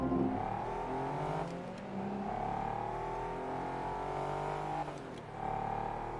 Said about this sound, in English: this car sounds quite beefy, actually